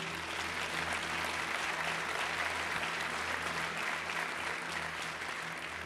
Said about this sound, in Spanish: Y denle un aplauso.